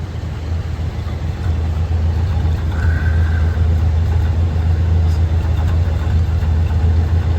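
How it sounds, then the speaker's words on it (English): A 1965 Buick Wildcat Deluxe Convertible, restored, sits idling with a steady low rumble from its quiet exhaust, continuous and close throughout. "Let's listen to that exhaust note here."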